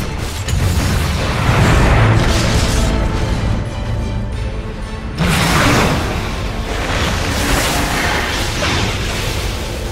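Middle barracks collapse in Dota 2, with loud rumbling blasts and whooshing debris that swell, drop briefly, then surge again in a second heavy burst amid continuous battle noise.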